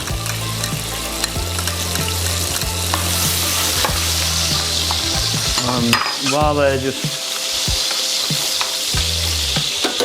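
Peppers fry in a pan with garlic for Italian steak pizzaiola, a loud, steady sizzle with stirring scrapes, and a person speaks briefly partway through.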